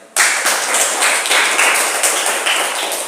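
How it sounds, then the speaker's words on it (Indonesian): A classroom full of people claps steadily and loudly for about three seconds, a dense sustained round of applause with no talking. "kita beri tepuk tangan untuk kelompok 2 ini"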